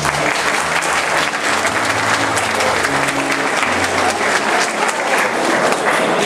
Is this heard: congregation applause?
yes